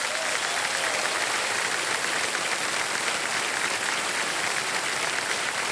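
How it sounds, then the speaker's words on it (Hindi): Studio audience applause on the quiz show Kaun Banega Crorepati, a dense, steady wash of clapping from many hands that stays loud and even throughout with no voices over it. "बहुत बहुत तालियां बज जाए इनके लिए"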